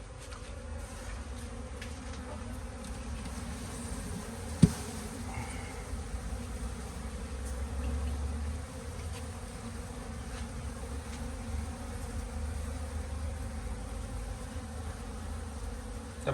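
Asian honey bees buzzing steadily as their hive is moved, a dense continuous drone close by with a brief knock partway through and no voices.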